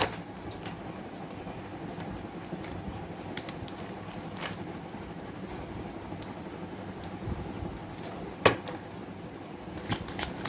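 Slippery tarot cards being shuffled close by, a continuous soft riffling and sliding with scattered light taps and one sharper click near the end, no voice heard.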